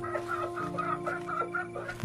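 Several chickens on a poultry farm cluck in a quick repeated rhythm nearby over a steady low hum, without any talking.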